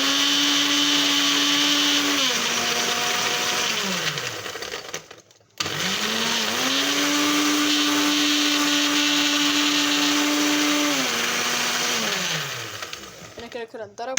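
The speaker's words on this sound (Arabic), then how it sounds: "نفتح كده الخلاط بتاعنا" A blender mixing a milkshake whirs loudly at a steady pitch, shifting speed partway, stopping briefly, then running again before winding down at the end.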